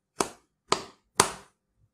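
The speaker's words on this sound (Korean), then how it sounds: "만족하셨다면 박수 3번." A lone person claps three times at the close of a lecture: crisp, close hand claps spaced about half a second apart, with silence between and after them.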